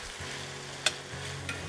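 Garlic goes into a pan of nearly translucent onions, giving a soft, continuous sizzle with a single sharp clink of a utensil partway through and no voices.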